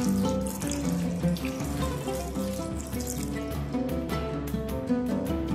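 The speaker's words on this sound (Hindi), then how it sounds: "अब इसमें दो कप पानी डाल दूंगी।" Water is poured into a pan holding raw mangoes for a chutney. A close, steady splashing stream runs without a break throughout.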